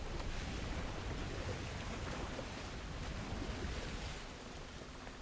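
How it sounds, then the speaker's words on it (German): Water rising in Kena: Bridge of Spirits, a broad, steady rushing wash like surf or flowing water, fairly faint and continuous, easing slightly toward the end. "Ah, das Wasser steigt, okay."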